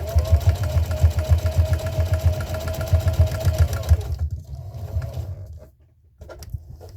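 A sewing machine stitches a washable kitchen sponge in a fast, even mechanical chatter for about four seconds, then stops, leaving faint handling noises.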